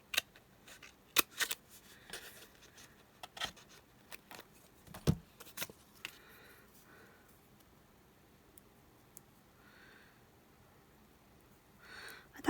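Scissors snip through a paper embellishment for a pink Christmas craft, giving a scattered series of close, crisp cuts and clicks, sparse and irregular, with quiet pauses between them.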